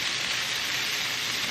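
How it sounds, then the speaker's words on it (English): Light rain starting to fall outdoors during a cranberry cooking session, a steady soft hiss of fine drops pattering on surfaces, continuous and even with no voices. "I legit think it's just starting to rain right now."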